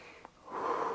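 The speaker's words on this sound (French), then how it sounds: "faire rentrer de l'air, inspirer et expirer profondément" One deep breath cycle heard up close: a short sharp intake of air, then a long, airy exhale that fills the second half, with no speech.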